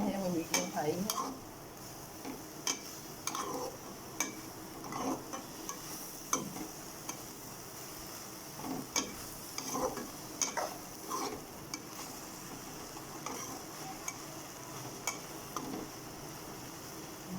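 A spatula scrapes and taps against a pan while chicken fried rice ingredients with white vinegar are mixed over a medium-high flame, soft background sizzle under irregular clicks and scrapes, close but fairly quiet, no talking.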